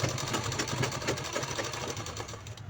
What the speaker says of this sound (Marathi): शिलाई लावून घेतली